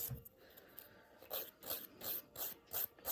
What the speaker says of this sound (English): I am very conscious of not over-filing it